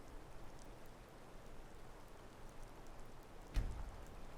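Steady rain falls in a Skyrim game scene, a soft continuous patter at moderate level with one brief louder knock near the end and no talking.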